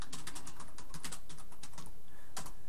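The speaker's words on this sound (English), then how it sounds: "just by typing in a message there" Someone types a chat message on a computer keyboard, quick irregular clicks and key taps in short bursts with a brief pause, close and fairly quiet, with no voices.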